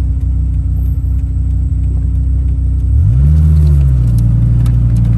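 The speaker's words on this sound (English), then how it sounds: "we'll jump on it a little bit, take it up to 70 miles an hour real quick for you so you can hear it" A 2001 Dodge Viper RT10 roadster revs up loudly and close, its low engine drone steady at first, then climbing sharply in pitch as it accelerates hard before settling into a sustained, high cruising note.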